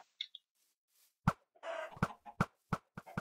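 Minecraft chickens cluck in short, sharp, separate bursts, several in a row, clear against near silence.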